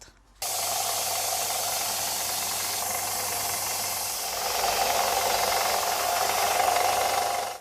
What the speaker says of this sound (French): je vais pouvoir le poncer pour arriver à peu près à 5 mm